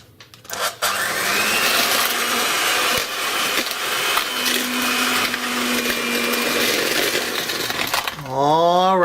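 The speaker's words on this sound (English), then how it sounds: "we're going to mix this until it turns into a nice smooth batter" An electric mixer whirs loudly and continuously, beating butter, sugar and vanilla into a smooth batter for Surinamese cornstarch cookies, with a brief clatter at the start and a pitch change as the motor shifts near the end.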